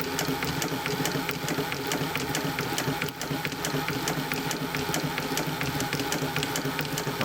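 A 114k103 chain-stitch sewing machine, driven by a servo motor through a wooden drive wheel, runs with a steady, rapid mechanical clatter and motor hum, moderately quiet and uninterrupted.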